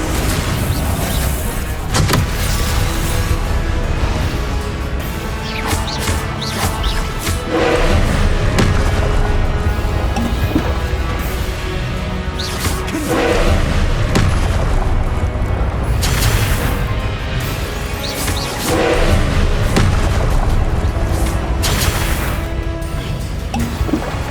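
Repeated Confringo blasting spell explosions erupt in the video game Hogwarts Legacy, a dense barrage of booming thuds and crashing bursts that hits loudly again and again across a chaotic fight, with no talking.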